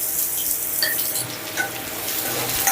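Chopped onion hitting hot oil with cumin seeds in a pan, a close, steady sizzle with light stirring and scraping of a spoon, no talking.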